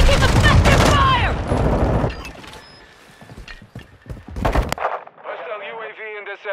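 Heavy gunfire in a Modern Warfare II Domination match, dense bursts loud up front, then scattered shots and mechanical clatter, with a game voice calling out over it.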